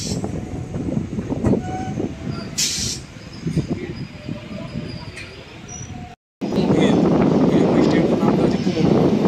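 Electric local train on the Katwa to Ahmedpur line running steadily with loud rumble and wind rush, a brief high squeal early on, after a momentary cut the noise returns louder and fuller.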